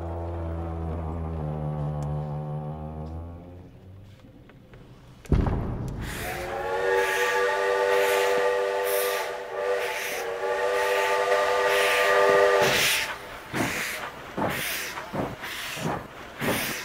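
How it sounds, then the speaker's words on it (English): A steam train carrying cultural relics leaves a major railway station in Beiping, first with low rumbling, then a sudden loud, sustained whistle over the clatter and chuffing of the departing train. "train loaded with cultural relics moved out of the major railway station in Beiping"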